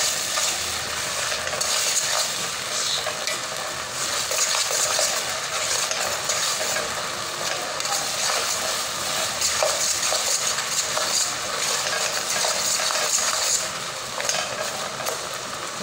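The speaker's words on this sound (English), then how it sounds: "You can see it boiling." A pot of neem leaves boils steadily on the stove to make homemade neem oil. The bubbling and sizzling is dense and constant, close by, with faint clinks of utensils and no talking.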